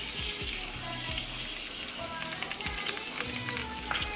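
Barbecue ribs sizzling over high heat while sauce is slathered on, a continuous bright crackling hiss with faint scraping and dabbing, moderately quiet and close.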